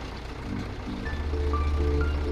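A 4x4 YuMZ-6 tractor engine idles on its first drive, a low, throbbing rumble that grows slightly louder and fuller partway through, heard without any talking.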